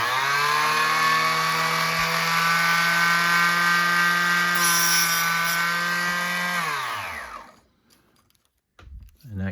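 A power saw slowly cuts through a floor panel in a shop van conversion, a loud steady harmonic whine holding for about seven seconds before winding down and stopping, followed by a few faint handling clicks.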